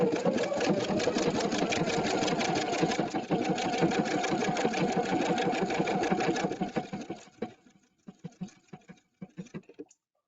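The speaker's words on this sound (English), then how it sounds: "we're going to start in the center and we are going to stitch 2 stitches" An EPIC 2 sewing machine runs in a fast, even stitching rhythm for several seconds, then slows to a few separate short bursts of stitches, close and clear.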